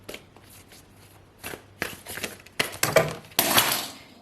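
A deck of oracle cards is shuffled by hand with soft riffles and taps, building into a louder, denser flurry of card slaps toward the end.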